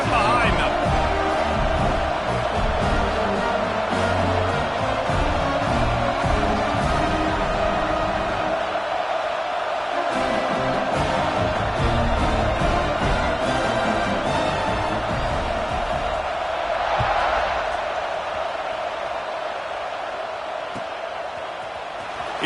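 Stadium crowd noise from a PS5 American football video game, a steady broad roar with cheering swells throughout, heard under continuous play-by-play commentary.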